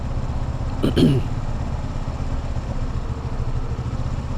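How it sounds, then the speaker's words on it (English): Honda Navi motorcycle engine idling unevenly, the low steady rumble hunting up and down and sputtering as if about to stall, close by with a brief louder burst near the start. "the idle is hunting up and down right there. It sputtered again, almost died out"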